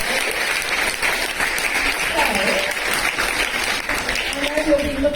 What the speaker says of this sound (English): can we do another big round of applause?